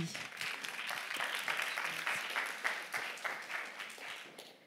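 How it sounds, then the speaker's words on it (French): An audience at the Prix EMI 2024 awards ceremony applauds a media-category nominee coming on stage, a fairly faint, steady patter of clapping with a little voice mixed in. "Et on applaudit."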